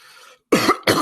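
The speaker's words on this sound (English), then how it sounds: "I talk so much I cough like that." A man gives two sharp, loud coughs in quick succession after a brief quiet pause, close to the microphone.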